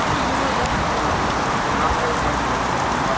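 Hard, heavy rain pours onto a street in a Russian neighborhood, a dense, steady hiss filling the whole clip with faint road traffic mixed in.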